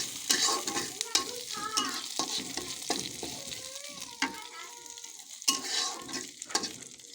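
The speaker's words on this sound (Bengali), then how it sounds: "এই তো সুন্দরভাবে নাড়াচাড়া করা হচ্ছে" Khichuri stirred in a pan with bay leaves, a steady sizzle under repeated close scraping strokes of a spoon against the pan, plus a few louder clanks, with no talk.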